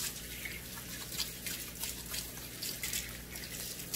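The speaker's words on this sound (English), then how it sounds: "So let me wash my hands real quick" Hands are washed under a running kitchen tap to clear off oil, a faint, steady stream of water with soft splashes and drips.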